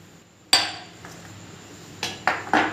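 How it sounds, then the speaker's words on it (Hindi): Ice cubes clink into a glass of falsa sharbat, a few sharp separate knocks and rattles close by, one at first and then three quick ones near the end, against an otherwise quiet background. "ये देखो इस तरह मैंने बर्फ़ डाल देनी है"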